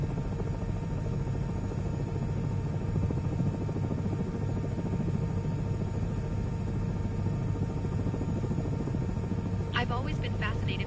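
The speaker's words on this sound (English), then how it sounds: "I've always been fascinated by helicopters." A helicopter in Microsoft Flight Simulator, played in VR on PS5 Pro, gives a steady, loud engine and rotor drone that holds throughout, with a brief higher sweep near the end.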